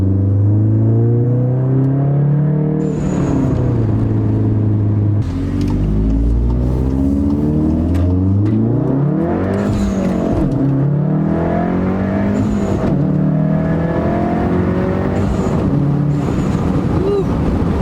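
A 2017 VW Golf R with a Borla S-Type cat-back exhaust drives at close range, its engine rising and falling through the revs with steady exhaust rumble and shift breaks. The windows are down.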